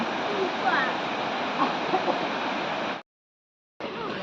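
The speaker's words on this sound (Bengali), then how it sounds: "দূর থেকে যে ঝর্ণাটা দেখা যাচ্ছিল সেটার কাছে চলে এসেছি এবার।" Lodh waterfall at Netarhat in Jharkhand roars as a steady broadband rush of falling water, with faint voices mixed in, briefly cutting out before resuming.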